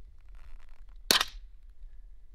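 A single sharp gunshot cracks at mid-clip, fired into a block of hickory wood coated with epoxy resin; outdoors, with only faint background hum around the brief report.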